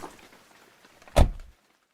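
A car's rear door opens and a briefcase drops to the ground, heard as one short, solid thud after a stretch of near silence, with a brief tail as it settles.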